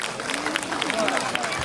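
Crowd applause rings out at the official opening of the Veles 2025 Sports Games, honouring a tennis organiser. Steady, dense clapping fills the space with a broad crowd wash and no pauses.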